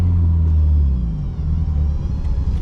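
A BMW E30 320i engine heard from inside the cabin with the windows closed gives a loud, steady low rumble that dips slightly partway through, muffled and without talk.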